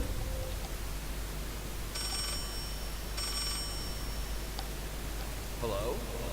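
A telephone rings in the horror video game Layers of Fear, two short bursts of ringing sounding clearly over a steady hiss of background noise.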